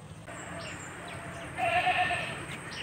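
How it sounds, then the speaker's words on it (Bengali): A goat bleats once from across a river at a quiet sandbar in rural Bangladesh, a faint, distant, wavering call rising briefly over soft background hiss. "ওই পার একটা ছাগল ডাকে।"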